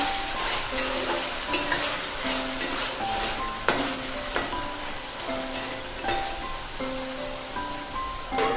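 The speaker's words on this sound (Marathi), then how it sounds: "झाकण काढून याला चांगलं मिक्स करून घ्या" Ivy gourd (tondli) curry is stirred in a hot pan after the lid comes off, a close, continuous sizzle broken by scraping spatula strokes and occasional sharp knocks, with no talk.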